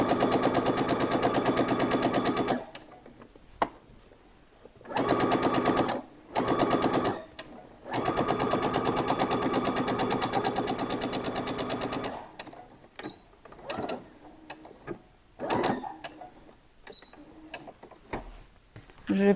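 A sewing machine stitching the curved crotch seam of trousers, running in steady rapid bursts of a few seconds each with short pauses between, close and clear, then shorter stop-start runs.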